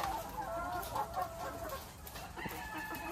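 Lohmann layer hens cluck in a dense, continuous chorus inside a poultry layer building, with overlapping calls and a faint crow-like cry among them.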